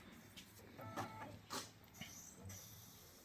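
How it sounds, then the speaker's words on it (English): A PC optical drive whirs and clicks as it initialises during a reboot, giving a few short mechanical buzzes and ticks close by in a quiet room. "you can hear the optical drive initializing every time it reboots"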